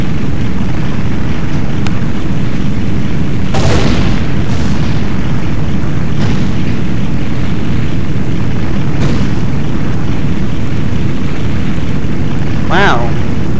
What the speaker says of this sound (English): Ganon Castle was destroyed.